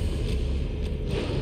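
A shutter opening in Resident Evil 4 HD, a brief mechanical creak and grinding rattle over a heavy low rumble of game ambience, close and continuous for a moment.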